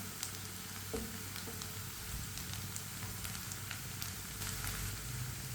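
Onions fry over medium heat in a pan, a continuous soft sizzle broken by light scrapes and taps as a spoon stirs them now and then, quiet and close with no talk.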